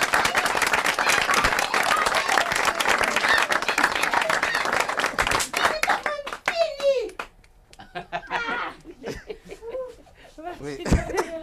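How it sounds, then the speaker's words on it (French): An audience applauds after a comic parody sketch, with dense clapping for about six seconds that then breaks off into laughter, a cough and people talking. "On applaudit cela."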